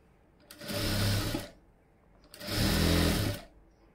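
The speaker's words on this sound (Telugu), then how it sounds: "ఇప్పుడు మనం కాటన్ లైనింగ్కి స్టిచ్ వేసేసుకున్నాం" A sewing machine stitches cotton lining fabric in two separate runs of about a second each, with a pause between them. Each run is a fast, steady, close mechanical whir.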